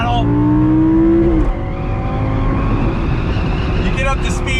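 A Lamborghini Gallardo V10 accelerates hard on a highway, the engine note climbing loudly through the revs, briefly dipping at a gear change, then pulling again close up from inside the car.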